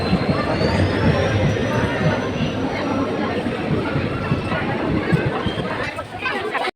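A passenger train travelling between Harmuti and Junai rolls steadily through trees and hills, its rumble and rattle loud and continuous throughout, with a faint high whine running over the top.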